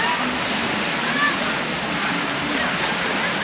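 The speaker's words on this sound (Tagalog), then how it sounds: "Tapos dyan lang yung dagat." Sea waves washing onto the shore of Kalanggaman Island's beach, a steady broadband surf wash that stays constant and fairly loud throughout, with no voices.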